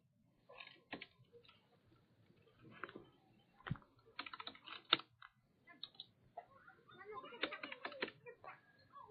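Keys clack on a computer keyboard while an online registration form is filled in, bursts of quick close taps broken by short pauses, faint and without talking.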